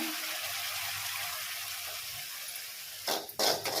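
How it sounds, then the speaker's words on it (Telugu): Half a lemon squeezed over chicken noodles cooking in a pan, a steady soft sizzle running underneath, then a few brief wet bursts of juice and handling near the end, close and fairly quiet with no talking. "ఇప్పుడు ఒక హాఫ్ పీస్ అయితే లెమన్ పిండుతున్నాను"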